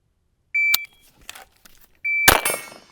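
A shot timer sounds two sharp electronic beeps during a rifle-to-pistol transition drill. The first beep is clean, and the second is swallowed by a loud gunshot burst just after it.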